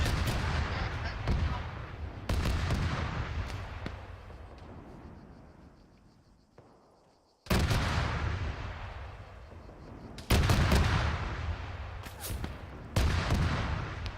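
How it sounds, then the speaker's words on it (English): Autocannon fire in a military video game squad session comes in loud, heavy bursts of repeated booming shots, each followed by a fading rumble, with quiet gaps between volleys and occasional voices. "No eyes on this autocannon from our west."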